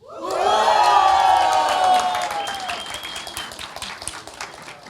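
A hall full of high school students cheers, whoops and applauds at a university law course event, a loud burst of shouting voices that swells quickly and then fades into scattered clapping.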